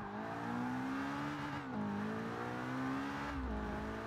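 A Ferrari 488 GTB engine in the Forza 6 video game revs with a steady, loud, droning whine that dips and climbs again as the throttle changes, with no talk.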